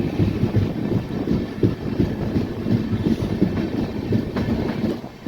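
The Deccan Queen Express running from Pune to Mumbai through monsoon rain, heard from on board as a steady rumble with a rhythmic clickety-clack of wheels and some wind noise, moderately loud and continuous.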